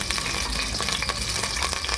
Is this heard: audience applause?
no